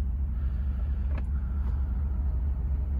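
A 2023 Ford F-150 pickup with a 5.0 engine, towing a 7,000 lb travel trailer, moving forward slowly with a steady low engine rumble and a faint brief squeak, heard from inside the cab.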